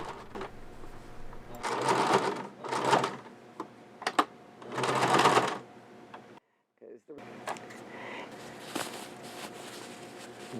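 A sewing machine stitches a scrunchie's edge closed in several loud, close bursts of rapid mechanical whirring. A person talks between the runs.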